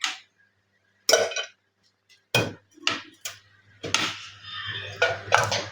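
Cooked chicken pieces for Pakistani yakhni chicken pulao are lifted and set into a metal pot, giving several sharp clinks and knocks of utensil on metal, spaced irregularly with brief scraping between.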